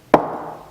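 A single sharp tap knocks a valve into place on an old Kawasaki motorcycle engine, followed by a short ringing decay, close and alone.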